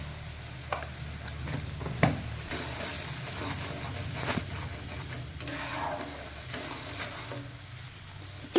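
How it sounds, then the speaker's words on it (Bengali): Spice paste is stir-fried over low flame for a banana-flower curry, a soft continuous sizzle with occasional spoon knocks against the pan, close and moderately quiet throughout. "যতক্ষণ না মশলা থেকে তেল বেরোবে ততক্ষণ আমি কষাতে থাকবো।"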